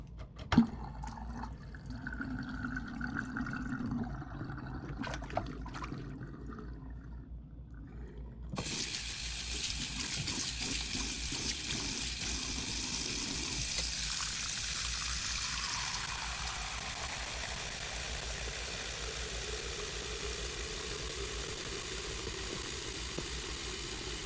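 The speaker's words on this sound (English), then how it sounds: "I'm going to drain the water and rinse out the sink and fill it" Tap water runs and drains in a sink for wet blocking a knitted cowl, at first quieter with faint trickles, then a steady louder rush of filling water that eases slightly toward the end, close by with no voices.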